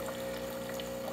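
A Breville Barista Pro espresso machine purges water during a descaling cycle, a quiet steady pouring and trickling stream with a constant pump hum underneath, continuous and without voices.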